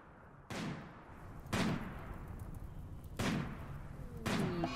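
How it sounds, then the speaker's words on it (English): Gunfire from the video game RimWorld: four separate sharp shots spaced a second or more apart, each a sudden bang that decays slowly over a steady background hum, with no voices. "And Sloan is starting a firing spree."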